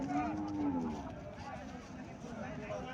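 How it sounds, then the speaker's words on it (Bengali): A local native cow lows in a drawn-out, fairly loud moo that fades within about a second, followed by steady rustling background noise. "এখানে একটা দেশি গাভী দেখা যাইতেছে"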